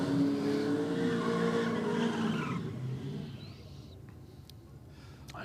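A supercharged drag car in the Aeroflow lane roars and squeals its tires at launch, loud and close at first, then the engine note fades quickly as it pulls away down the strip.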